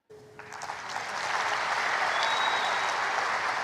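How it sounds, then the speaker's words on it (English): A Rwandan crowd breaks into applause that swells quickly from scattered claps into a loud, dense, sustained ovation, with no talking over it. "Rwandans applaud."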